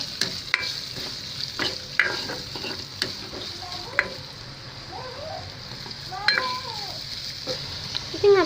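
Sliced onions frying gently in a pan for a kadai chicken curry, a soft steady sizzle with scattered scrapes and taps of a spoon stirring, fairly quiet and close.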